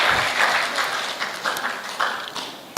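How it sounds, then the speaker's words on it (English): An audience at an education ministry ceremony applauds steadily for presenters as they return to their seats, a dense, close wash of clapping lasting throughout. "please clap for them as they go to take up their seat"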